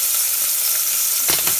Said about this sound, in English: So here's the beaver cooking in the oil.